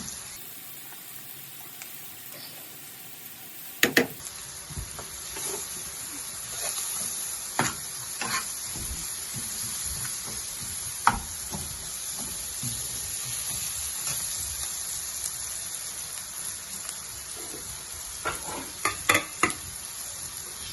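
Whole spices crackle and sizzle in hot oil for tempering, a steady close frying hiss with scattered pops and occasional stirring clatters, after a brief opening of louder noise, with no voices.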